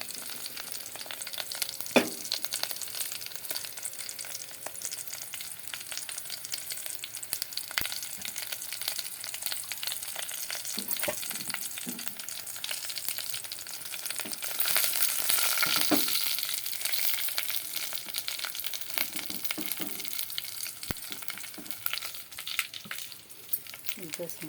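Spices sizzle and crackle steadily in hot oil for a sambar tempering, with occasional stirring clicks and scrapes against the pan; no one speaks over it.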